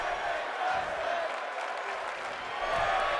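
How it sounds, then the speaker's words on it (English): A crowd at a women's wrestling match, a dense, continuous wash of cheering and applause, steady and fairly distant, with a voice talking faintly underneath. "Crowd chanting women's wrestling."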